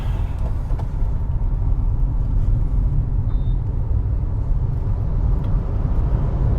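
Hyundai i10 Nios car merging onto a highway at night, a steady low engine and road rumble heard from inside the cabin, constant and fairly loud throughout.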